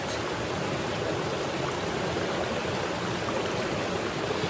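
River water flows steadily and close by in a continuous broadband rush, with no talking over it.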